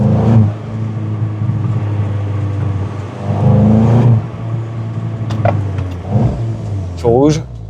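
A Volkswagen Golf 8 GTI Clubsport engine hums under steady driving and revs in surges, with sharp exhaust pops and crackles near the end; someone talks over it inside the cabin.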